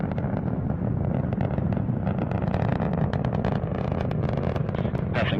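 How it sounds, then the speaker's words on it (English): An Atlas V rocket climbing through supersonic flight on its RD-180 engine, a steady loud crackling roar with dense rumble, continuous and unbroken for the whole stretch. "Mach 1, Atlas V is now supersonic."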